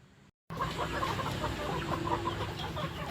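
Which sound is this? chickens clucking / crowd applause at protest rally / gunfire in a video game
chickens clucking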